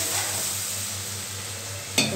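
Potato and aubergine fry in fish oil with a steady, quiet sizzle and a single brief clink of a utensil against the pan near the end.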